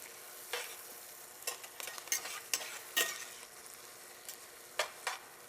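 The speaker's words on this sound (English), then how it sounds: "I'm going to add my green onion bottoms, the white part. Add that for about a minute." Chopped white green onion bottoms sizzle softly in a pan, with a steady low hiss broken by a few scraping stirs and brief louder spatters.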